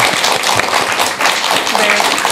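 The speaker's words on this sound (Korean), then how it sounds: "장봉수 보교사님께 박수 한번 드리세요" An audience at a Buddhist gathering gives applause to a lay preacher, close, loud clapping of a modest crowd mixed with a speaking voice over it throughout.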